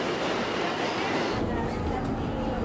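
A New York subway train in motion, with a steady loud rumble and rattle filling the car throughout and a faint murmur of passengers' voices underneath.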